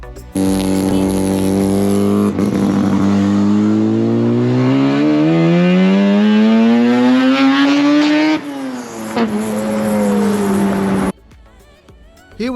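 Mazda RX3 with a 13B peripheral port rotary engine driving around Sydney's northern beaches, loud and close, its raspy note climbing steadily through a long pull, dropping at a gear change, then settling to a lower drone before cutting off.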